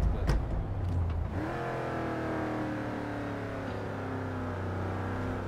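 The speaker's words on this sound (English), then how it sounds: "And the BMW actually slowed down to not hit you." A BMW engine in the Forza Horizon 3 racing game hums steadily at mid revs, a sustained smooth drone after a brief bump at the start, with no talking.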